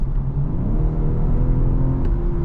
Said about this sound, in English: You notice the engine noise isn't as pronounced.